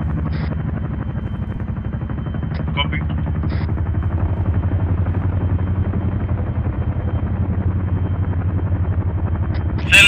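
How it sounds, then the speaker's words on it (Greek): A helicopter lands in the military video game Arma 3, its rotor pounding in a steady low thump throughout, with brief radio voice chatter over the top. "Όταν κατέβει το ελικόπτερο, θέλω να πάμε και κινηθούμε προς αυτό και να κάνουμε μια περίμετρο γύρω από αυτό."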